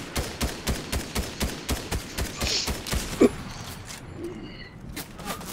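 Rapid gunfire bursts from a Fortnite match, a steady run of sharp, evenly spaced shots that thins out toward the end, with a single louder crack partway through and no talk over it.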